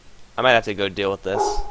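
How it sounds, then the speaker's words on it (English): A pet dog barks nearby in a quick series of four or five yips and barks, close and fairly loud, while someone speaks at the same time. "That's my dog, by the way."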